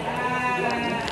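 Garut ewe bleating at the Majalaya sheep market in Bandung, one sustained, wavering, nasal bleat, close and loud with little else around it.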